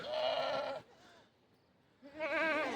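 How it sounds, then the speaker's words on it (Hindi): A young lamb of a Himalayan Gaddi shepherd's flock bleats twice, close and clear, with a quiet pause between the two wavering cries. "एक मासूम मेमना जो है वो यहाँ पर बैठ गया है"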